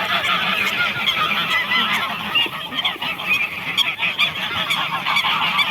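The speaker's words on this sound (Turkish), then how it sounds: "Martılar da geliyor bak martılar" A noisy flock of seagulls calling over and over, harsh overlapping cries filling the air continuously, loud and close, with no talking.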